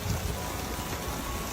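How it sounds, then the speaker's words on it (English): Hail falling steadily outdoors as a dense, constant patter of ice pellets, loud and close, hitting someone's body and the surfaces around them, with no pauses. "It's hailing."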